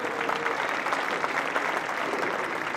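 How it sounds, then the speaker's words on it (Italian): An audience claps warmly for a national award winner at a ceremony, steady dense applause holding at an even level from start to finish. "a cui va il vostro più caloroso applauso"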